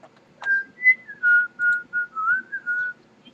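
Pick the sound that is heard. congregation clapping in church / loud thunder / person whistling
person whistling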